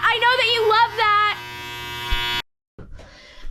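A clothes dryer's end-of-cycle buzzer sounds at home as a loud, steady electric buzz with a strong harmonic drone, starting under a voice and cutting off abruptly; after a short silence, softer household noise follows.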